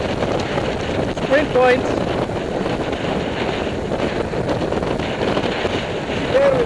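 Wind buffeting the microphone aboard a sailboat under way, a loud continuous rushing roar with brief tonal squeaks, while a voice speaks briefly over it.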